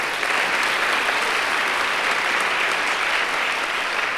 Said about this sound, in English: So please give yourselves a huge round of applause.